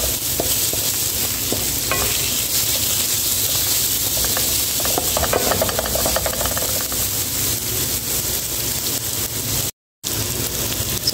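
A utensil stirs rice and egg in a sizzling frying pan, steady frying hiss with intermittent scraping and clinking strokes throughout, close and fairly loud.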